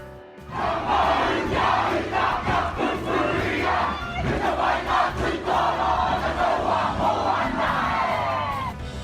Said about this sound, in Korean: 뉴질랜드에 한국이 인도한 함대가 납품되자 그들은 소리를 지르며 환호했습니다.